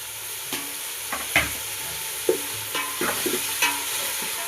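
Chopped onions stirred in a hot pan of oil, with a soft steady sizzle under repeated scraping strokes of a ladle, close and fairly quiet with no voices.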